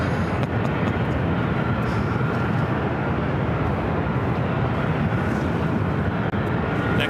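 United Airlines Boeing 737 MAX 8 arriving at LAX, a loud close jet roar that stays steady and dense throughout, with no voices.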